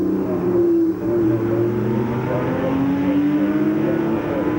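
A Porsche 911 Carrera racing in the 1992 Australian Grand Prix Porsche Challenge, its engine droning loud and steady with rising and falling pitch as it slides out of a corner, with no talk over it.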